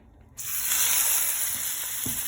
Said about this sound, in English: And I have the skillet to where it is going to sear them.